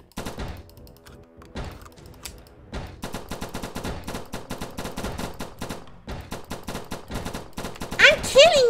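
Rapid gunfire from a gun in the shooter game They Can't Stop All Of Us in defender mode, a few early shots then long dense automatic bursts, loud and close, with a voice briefly heard near the end.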